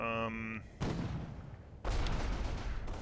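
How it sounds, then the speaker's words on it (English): Artillery spotting rounds land close to a tank in the Combat Mission wargame, two loud booming impacts arriving in turn, each followed by a long rumbling decay, after a short musical tone at the start. "spotting rounds are going down next to the tank"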